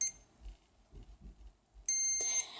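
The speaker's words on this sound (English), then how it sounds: "you'll hold it for 2 seconds until you hear a long beep" After a few soft low thumps, a travel alarm clock gives a single loud, high electronic beep that holds for about half a second.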